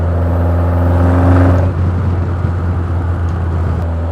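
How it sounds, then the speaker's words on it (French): A Caterham Seven 1700 Super Sprint engine hums loudly, then the throttle is released and the note drops away, followed by a few faint crackling pops from the exhaust. "On a également cette sonorité qui est très agréable au lâcher de gaz."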